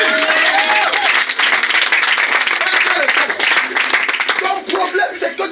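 Church congregation claps and cheers in praise of Jesus, loud dense applause running continuously with voices mixed in.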